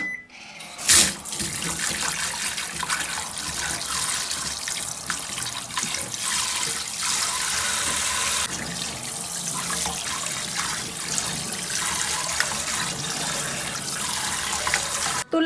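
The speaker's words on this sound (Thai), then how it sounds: "ล้างจนกว่าน้ำล้างหอยเราจะสะอาดไม่มีสิ่งสกปรกนะคะ" Tap water runs steadily into a sink while oysters are rinsed, a continuous close splashing rush with no pauses and no talking.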